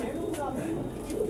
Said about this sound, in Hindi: ये पंजाब से आए हुए कबूतर हैं सारे